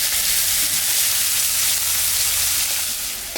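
Chopped onion frying in oil in a pan used for a puti fish curry with potato and tomato gives a steady, loud, close hiss that eases slightly near the end.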